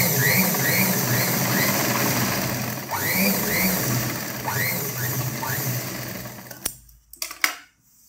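A sewing machine stitches a straight seam on a tailored garment, running in a steady, close mechanical whir for about six and a half seconds before stopping, followed by a few sharp clicks.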